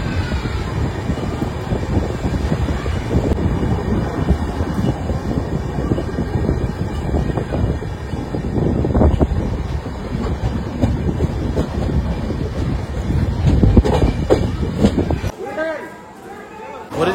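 The Sealdah Puri Duronto Express runs at speed, a continuous loud rumble and rattle of the carriages with clickety-clack over the rails and a voice heard over it, before the noise drops away sharply near the end.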